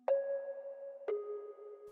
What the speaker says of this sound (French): genre plein de reverb